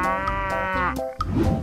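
A cow's lowing moo, one long sustained harmonic call lasting most of the moment, followed by a brief shuffle of background noise, close and fairly loud.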